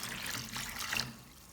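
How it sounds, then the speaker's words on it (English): Water pours over ginger pieces sitting in salt, a steady close splash and trickle lasting about a second before fading to a faint wash, with no voices. "Add enough water to fully cover the ginger."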